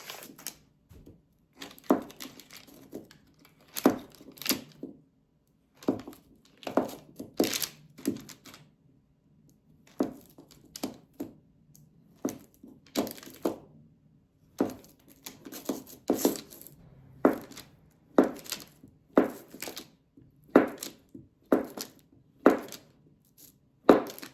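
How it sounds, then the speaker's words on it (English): A knife cubes a half stick of Irish butter on a cutting board: crisp, close chopping knocks in uneven bursts of several strokes, separated by short pauses. "Now I'm going to cube up 4 tablespoons or a half stick of good Irish butter."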